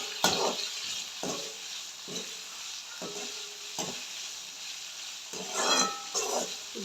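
Onions and curry leaves sauté in a hot pan with a continuous sizzle. A spoon stirs and scrapes through them in rhythmic strokes about once a second, close and clear, with no voices.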